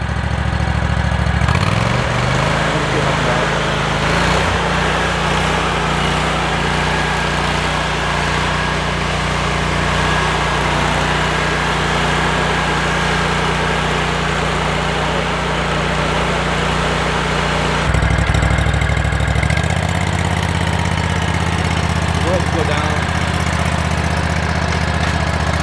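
A Toro Multiforce with a dethatcher attachment runs loudly and steadily close by, with a shift in engine pitch partway through and an abrupt change in tone near the end, no talking.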